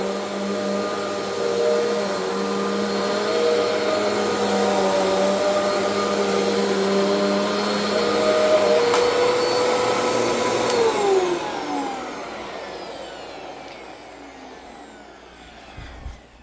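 Eureka Altima 2991-AVZ upright vacuum cleaner running on carpet, a steady close whine and motor drone with a tonal hum, then winding down as it shuts off near the end.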